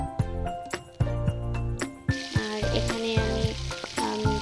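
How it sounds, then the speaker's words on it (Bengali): Chopped onions and green chilies frying in oil in a wok, a bright sizzle broken by repeated sharp metallic taps and clinks of a spatula against the pan. "পেঁয়াজ কুচি ও কাঁচামরিচ দিয়ে দিয়েছি"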